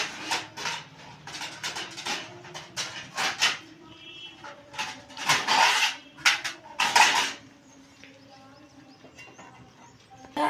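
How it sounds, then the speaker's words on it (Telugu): Metal clatters and scrapes in a home kitchen as a lid is handled and set on a pot of Maggi noodles, a cluster of close, irregular clinks and knocks followed by quieter stillness. "నేనైతే మూత పెడుతున్నాను"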